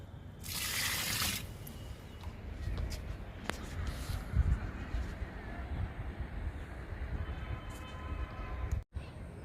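Liquid pest spray is poured onto the soil of a large guava plant in a garden, a splashing, trickling stream with a brief louder gush early on and a steady low wash afterward.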